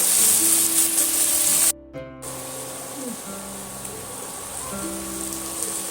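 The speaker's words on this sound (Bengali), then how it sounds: "আদা রসুন বাটা দিয়ে আবারও আমি ভালো করে কষাতে থাকবো" Ginger garlic paste and tomato fry in oil with a continuous crackling sizzle, interrupted by a brief gap before the frying hiss resumes alongside faint tonal hum.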